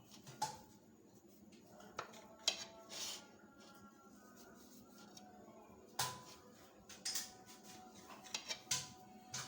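A knife cuts into a homemade chocolate cake garnished with coconut, making quiet, intermittent scrapes, taps and cutlery clinks against a plate, close by and with no talk.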